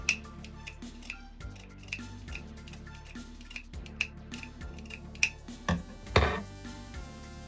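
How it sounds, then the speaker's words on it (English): Scissors snipping through a doll's embroidered shirt fabric, a series of small, crisp, close clicks and snips at an uneven pace over quiet background music, with no talking. "Cutting this shirt is sort of scary because I don't want to, first of all, I want to get it even, but I don't want to cut any of the embroidery."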